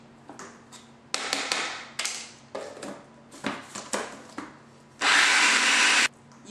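Vegan vanilla icing being mixed with powdered sugar, probably with an electric hand mixer, in a series of short whirring bursts that end in one steady, louder run of about a second.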